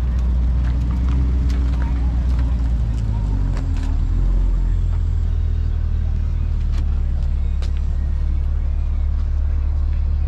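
A new Corvette rolls in at a hot rod gathering with a deep, steady low rumble that stays loud and constant throughout, with faint clicks and knocks around it.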